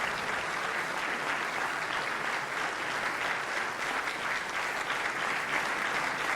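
Thunderous applause for President Sergio Mattarella fills a hall, a loud, dense and unbroken roar of many hands clapping throughout.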